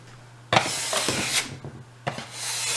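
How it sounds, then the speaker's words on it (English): A scraper drags across a kitchen counter clearing off pizza-dough flour in two close, rasping strokes, the first long and gritty, the second starting near the end, with no talk. "So you want to just scrape your counters down."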